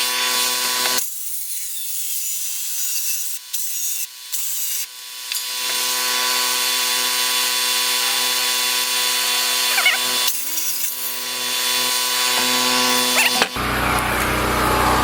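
A cordless power tool works on 2x6 lumber, running in short loud whirring bursts and then one long continuous run before stopping, with brief quiet gaps between.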